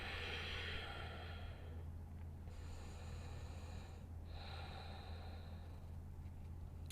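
Steady, slightly noisy breathing from a person holding dolphin pose in a vinyasa yoga class, with a continuous airy rush of inhales and exhales and a low hum underneath, close and moderately loud.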